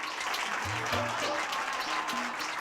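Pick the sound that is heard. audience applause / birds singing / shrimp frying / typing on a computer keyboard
audience applause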